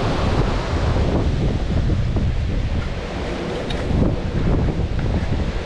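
A machine sucks water out of a water lily pond, producing a loud, continuous rushing roar that stays steady and close for the whole stretch with no voices.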